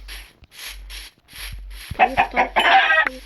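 Chickens in the Minecraft video game clucking in short repeated bursts, a series of close, fairly loud clucks and squawks with no talk over them.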